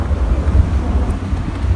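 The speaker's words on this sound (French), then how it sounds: "je sais pas si vous avez bien entendu avec le vent" Strong wind buffets a microphone outdoors in Corsica, a loud continuous low rumble that roars and gusts without a break.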